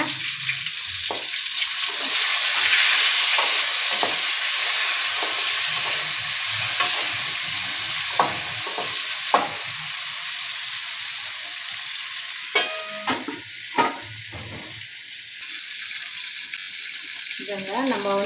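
Steady loud sizzling and crackling of spices frying in hot oil to temper chutney, with occasional pops and a faint voice in the background.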